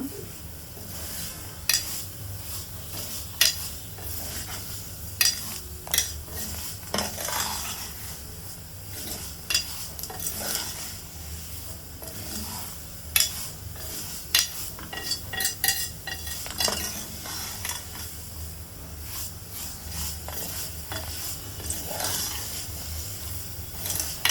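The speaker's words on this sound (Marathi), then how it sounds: "त्या पण अशा छान तुपात परतून ब्राऊन रंगावर फ्राय करून घ्यायचे मस्त." Dry fruits fried in ghee for shevayachi kheer, with a soft sizzle under repeated sharp clinks and scrapes of a spoon against the pan, fairly quiet and close.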